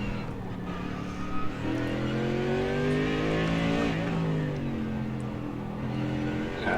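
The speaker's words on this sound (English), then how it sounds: "There goes Kiko Russo in the Ferrari number 10 past Hunter" A Ferrari race car, number 10, sweeps past a rival in an iRacing endurance race at Mid-Ohio, its engine note rising and then falling through the pass. The roar is steady and fairly loud and carries over the background track noise.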